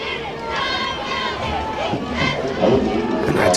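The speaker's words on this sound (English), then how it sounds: "this home crowd not happy about one" Home crowd at a high school football game between the Muleshoe Mules and the Slaton Tigers rumbles and murmurs with scattered shouts, a steady mass of voices swelling near the end, while a commentator talks over it.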